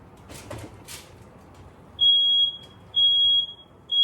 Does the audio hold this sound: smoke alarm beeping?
yes